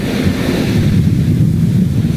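Rough, angry seas in the Drake Passage heard from a ship's bridge, a loud continuous roar of big waves and heavy wind buffeting the microphone, with no voices.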